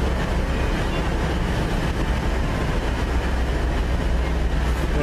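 Locomotive 56105 hauls a train away near Lincoln, a steady broadband rumble of wheels and engine that holds loud and continuous throughout, with no voices over it.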